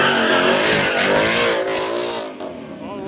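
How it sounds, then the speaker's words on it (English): A Ford Mustang spins donuts at a car meet, its engine revving loud and close in a sustained wavering roar that drops away near the end. "Mustang's doing donuts?"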